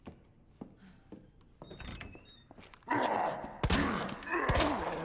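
Heavy stomping footsteps of the pursuing Mr. X in the Resident Evil 2 remake, a series of dull thuds and knocks building from faint to loud and close amid game ambience.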